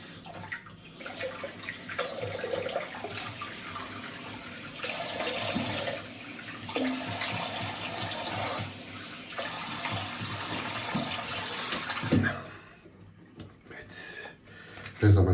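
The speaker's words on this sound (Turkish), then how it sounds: "şimdi yüzümü soğuk suyla yıkıyorum" Cold tap water running while someone washes their face at a sink, a steady close splashing rush with varying intensity, then a brief clatter near the end.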